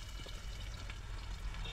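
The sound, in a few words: onions frying in a pan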